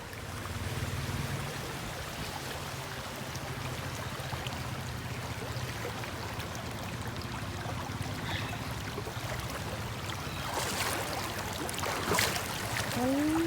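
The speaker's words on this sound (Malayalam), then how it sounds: "നല്ല ക്ലിയർ വാട്ടറാണ് അരുവി നല്ല അരുവിയുണ്ട്" A clear-water forest stream flows steadily in a continuous broadband wash of rushing water, fairly close and unbroken from start to end, with a few brief brighter splashes near the end.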